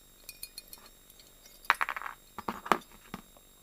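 Small steel parts from a disassembled 1911 pistol drop out and clink against a hard surface, a few light taps first, then a cluster of sharp metallic clinks and rattles, close and fairly loud.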